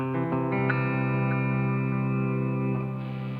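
A sustained clean electric guitar chord, played through a pedalboard, rings out with a long delay and reverb tail, steady and full, with no talking.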